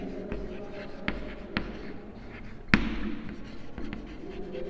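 Pen strokes on paper, soft scratches and a few sharper taps, come at an uneven pace while working an accounting problem for a partnership firm. No one speaks.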